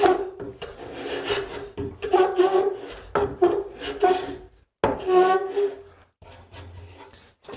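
A hand plane pushed along a wooden board takes smooth shavings in a series of close, dry, rasping strokes separated by short pauses, with no talking.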